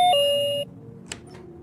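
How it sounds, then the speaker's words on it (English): A two-tone doorbell chime rings once, a sustained high tone dropping to a lower one that fades out, followed by a couple of faint clicks in a quiet room. "Ding dong! Lazada delivery!"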